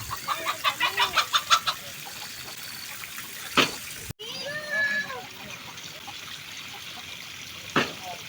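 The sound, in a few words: chicken clucking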